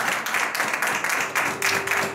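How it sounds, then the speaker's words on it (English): A church congregation claps together in steady, dense applause during a Lord's Supper service, the broadband patter loud and sustained without a break. "Let's give Jesus a clap."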